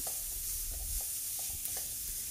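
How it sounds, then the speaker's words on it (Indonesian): Spice paste with bruised lemongrass and crushed galangal sizzles quietly in oil while a spatula stirs it, leaving a soft, continuous hiss broken by gentle scraping strokes. "Aduk-aduk dan tumis sampai harum dan bumbunya matang."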